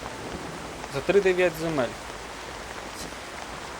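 Steady hissing rainfall from the video game Yandere Simulator fills the whole stretch as a continuous wash of noise, with a voice speaking briefly over it partway through.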